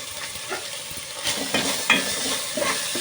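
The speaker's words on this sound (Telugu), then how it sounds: "ఇప్పుడు ఆనియన్స్ ఫ్రై అయినాయి కదా" Onions frying in a pan for a fresh cashew curry make a loud, continuous close sizzle, with scraping stirring strokes throughout and no voices.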